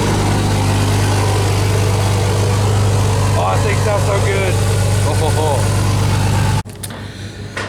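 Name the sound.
Dodge truck engine idling after cold start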